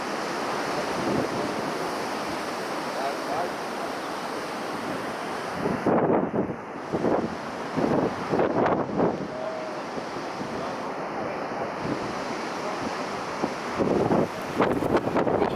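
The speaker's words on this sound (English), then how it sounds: "This wind is insane." Strong gale-force wind roars across the microphone over heavy ocean surf on a big swell at Jeffreys Bay, a continuous loud rush with buffeting gusts and no speech.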